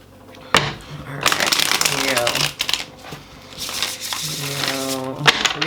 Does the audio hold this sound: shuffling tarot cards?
yes